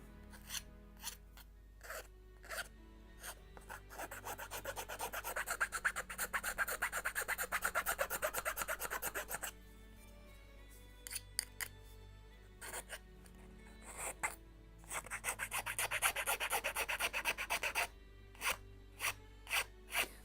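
Someone sands the wooden skeleton of a 1:76 Mayflower ship model kit. Close, dry rasping strokes come in quick rhythmic bursts, with a pause midway and a few isolated scrapes at the start and end.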